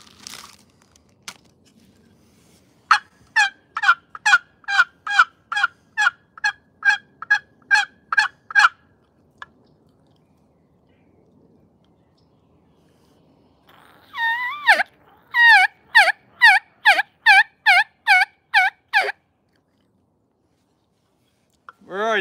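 A wooden box turkey call imitating turkey sounds, playing two runs of about ten sharp, evenly spaced yelping notes separated by a quiet pause, loud and close.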